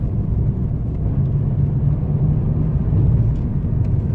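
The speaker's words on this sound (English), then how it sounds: "And more misfirings." A Mini R56 with a 1.6 N12 engine and a rough-running mid-throttle fault drones as a steady low cabin rumble while driving in third gear, with faint uneven stumbles in the tone.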